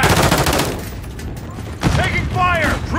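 Rapid bursts of automatic gunfire from the video game Call of Duty Modern Warfare 3, close and loud, with a short lull before more shots crackle under a voice calling out.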